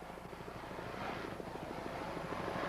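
Offshore powerboat racing in 1991, with boats such as one powered by three 240 horsepower Mercury outboard motors running at full throttle: a loud, steady, droning engine roar that swells slightly, with no voices.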